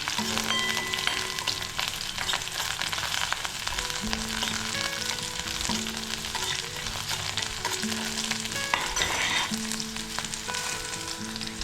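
Chopped ginger frying in a pan for a fenugreek and pea curry, a steady close sizzle with crackles and occasional clinks of stirring, no talking.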